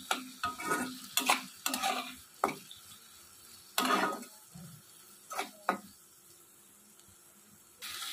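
Soy and chili sauce being stirred into chicken chow mein in a pan, intermittent close scraping and clinking strokes of a utensil over a faint sizzle, with quiet gaps between bursts.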